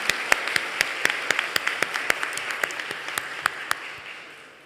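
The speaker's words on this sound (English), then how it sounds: "One more round of applause." Audience applause at a university scholarships and awards day for students with a 4.0 GPA: a steady round of hand clapping with sharp individual claps standing out, fading toward the end.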